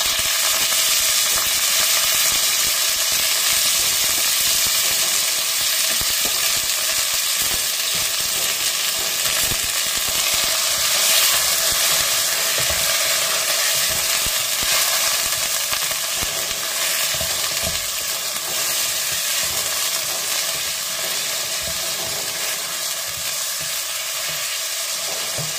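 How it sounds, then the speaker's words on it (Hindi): Chicken pieces fry in a pan with steady, loud sizzling and occasional stirring scrapes throughout, no talk over it. "हम चिकन को थोड़ा भूनेंगे"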